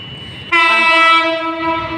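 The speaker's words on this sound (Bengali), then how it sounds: "ওই যে দেখেন ট্রেন আসছে" An approaching train on railway tracks sounds a loud, sustained horn that starts abruptly after a brief murmur of background noise and holds steady, close by.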